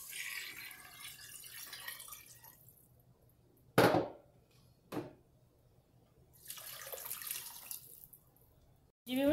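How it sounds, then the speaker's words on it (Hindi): Water poured from a container into a pot of fried chicken for yakhni: several separate splashing pours with quiet gaps, including a sharp slosh, a brief splash and a longer trickling stream, close and without talk. "अब मैं इसमें डाल दूंगी ये 5 कप पानी।"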